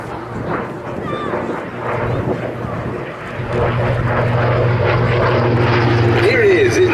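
A Grumman F8F Bearcat warbird roars past at the Duxford air show, its propeller engine droning loudly and building steadily under an announcer's commentary.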